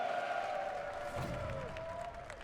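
An arena crowd of fans cheers at a Counter-Strike esports match (NRG vs Natus Vincere on Dust2) at the StarLadder Major New Champions Stage, forming a steady, dense roar with some ringing tonal sound running through it.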